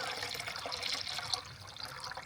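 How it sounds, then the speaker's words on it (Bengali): Clear water poured off settled starch in a rural kitchen runs into a container as a steady trickling splash, close and moderately loud, with no talking. "দেখুন পুরো জলটা গড়িয়ে দিলাম"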